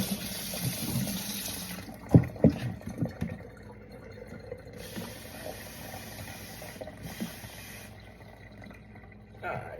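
Tap water runs into a gallon container for mixing Star San sanitizer, a close splashing fill with clunks and knocks early on and a steady pour after.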